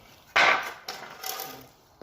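A thickness planer feeds a board of reclaimed lumber, starting abruptly with a loud, close burst of broadband cutting noise that fades, then a second, weaker pass of whining, rasping planing, with no talk.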